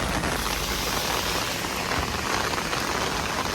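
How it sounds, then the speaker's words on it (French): Heavy rain falling steadily in Okinawa, a dense, even hiss of drops on surfaces that stays loud and unbroken throughout, with no voices. "Il pleut beaucoup là"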